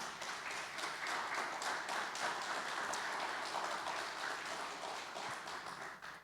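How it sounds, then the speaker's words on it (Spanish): Church congregation breaking into sustained applause, a steady wash of many hands clapping at even volume throughout, fading out at the very end. "Un aplauso para el Señor."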